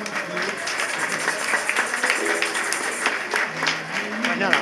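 An audience at a town festival proclamation for the feast of Our Lady of Fatima in Aldea Blanca claps in moderate applause, mixed with crowd voices and some talk.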